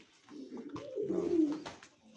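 A pigeon gives a single throaty coo, close and clear, with a soft rolling rise in the middle and no voices over it.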